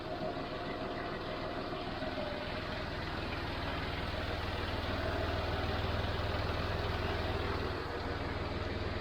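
A steady, low diesel engine of a John Deere 5055D tractor idling throughout, rumbling evenly at close range with no voices.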